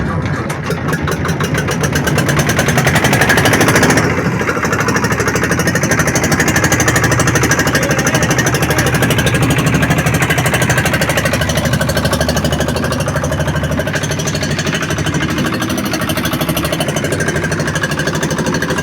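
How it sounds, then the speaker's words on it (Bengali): A boat engine rumbles hard and steady at close range, a loud continuous chugging drone with a throbbing, rattling beat that holds throughout with little change. "আমাদের যানবাহনটা স্টার্ট দেওয়া হয়েছে অবশেষে"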